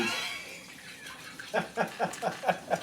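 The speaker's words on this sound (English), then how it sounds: "You hear the splashing of the water as it rumbles around in this chamber." Water splashes and sloshes around inside an enclosed chamber, a soft wash giving way to a run of seven rhythmic, evenly spaced splashing pulses.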